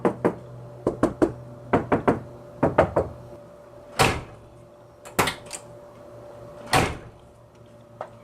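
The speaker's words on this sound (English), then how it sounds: "we're going to tap on the door and just shut it and see how much noise we can make with it" Knuckles tap on a car door lined with sound deadener in quick clusters of dull knocks, broken by several sharper, louder thuds as the door is shut, all close up and without talk.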